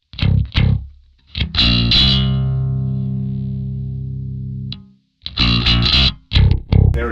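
Bass guitar run through a SansAmp preset on an Axe-Fx III, with gritty short plucked notes, then one long sustained note that slowly fades, followed by more quick punchy notes, loud and close.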